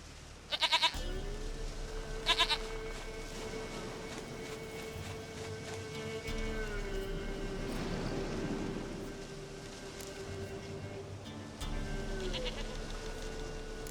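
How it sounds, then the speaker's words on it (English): A goat bleats in the video game The Witcher 3: Wild Hunt, three short, loud, wavering bleats spaced across the scene over a steady ambient game backdrop. "Goat of mine, dearest, sweetest goat."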